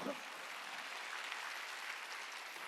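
A church congregation at a Sunday charismatic worship service claps together, a steady, even wash of applause heard from a distance at low level throughout, with a faint voice at the very start.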